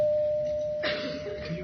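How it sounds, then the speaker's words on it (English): Quiz show bell signalling time is up, a single sustained bright tone ringing steadily before fading under studio murmur and a brief burst of noise. "Well, the bell is tolled."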